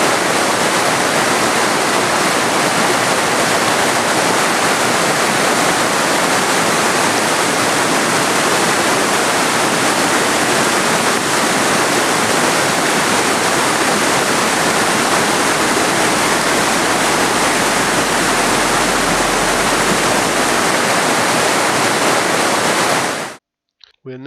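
Fast-flowing rivers Meavy and Plym rushing over their beds in open countryside, a loud, dense, continuous roar of water that holds steady for a long stretch before cutting off abruptly at the end.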